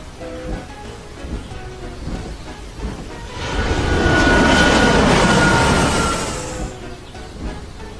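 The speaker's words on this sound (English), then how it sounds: "he heard a loud noise in the sky. Whoosh! A jet plane was coming into land." A jet plane coming in to land roars in as a loud, swelling whoosh about halfway through, holds for a few seconds, then fades away, with quieter background sound before and after.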